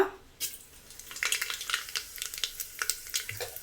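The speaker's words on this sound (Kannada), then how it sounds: "ಎಣ್ಣೆ ಕಾದಿದೆ ಸಾಸಿವೆ ಹಾಕ್ತಾ ಇದ್ದೀನಿ ಸ್ವಲ್ಪ" Mustard seeds sizzling and popping in hot oil inside a pressure cooker, heard as a steady close frying hiss dotted with sharp crackles after a brief quiet start, with no voices.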